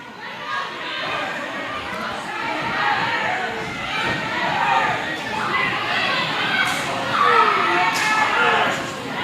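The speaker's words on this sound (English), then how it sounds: "I can't understand what the crowd is chanting." A wrestling crowd chants and cheers continuously at a live show, a dense, rising roar of many voices with scattered shouts, loud and close throughout.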